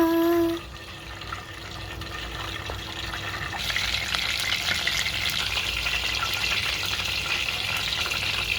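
Cheese ball potato snacks fry in hot oil, a steady close hiss and crackle that swells after a few seconds and keeps bubbling without pause, with no voices over it.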